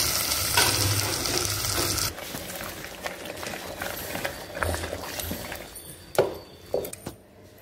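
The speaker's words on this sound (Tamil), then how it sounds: "இப்போ இந்த காஞ்ச மிளகாய் கடுகுலாம் நல்லா தாளித்து கொட்டிட்டு நம்ம இந்த கடைய வேண்டியதாக" Cooked siru keerai spinach and toor lentils for kadaiyal are mashed in a pan, with a hot sizzling wash at first from poured tempering of dried chillies and mustard, then soft, steady squelching and scraping with a few sharp knocks.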